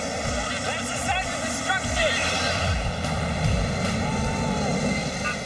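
A Boeing 747's jet engine blast roars steadily into a small plane, a loud, broad, sustained rush with rattling and buffeting, as a voice speaks briefly over the din.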